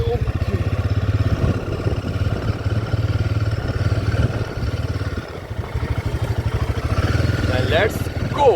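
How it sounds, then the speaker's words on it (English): A Royal Enfield Himalayan 450 motorcycle engine rumbles steadily with a rapid pulsing beat as the bike pulls away, loud and close, with a rider talking over it. "let's start the bike again"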